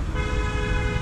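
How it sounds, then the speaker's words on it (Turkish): Car horns honk from somewhere up the road, a sustained, fairly loud tonal blare layered over a steady low traffic rumble, with no one talking. "İleriden kornalar çalıyor."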